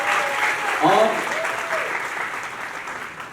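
Loud applause from an audience at the launch of a song, honouring its composer, steady clapping throughout with a host speaking over it.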